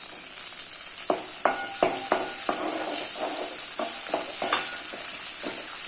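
Curry leaves crackle and sizzle in hot oil in a pan for a cluster beans stir-fry, a steady hiss broken by a dozen sharp spatters and spoon scrapes spread through the stretch, close and fairly loud with no talking.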